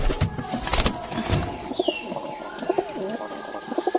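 A black and a white pigeon pairing up, giving soft, repeated low coos close by, mixed with faint chirps and steady background noise.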